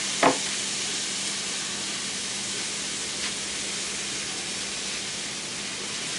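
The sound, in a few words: pieces of meat frying in a pan for Philly cheese steak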